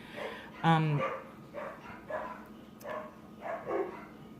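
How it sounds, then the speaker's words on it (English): Several dogs bark in the distance, one sharp yelp up front followed by a string of fainter, irregular barks. "there's so many dogs barking all of a sudden"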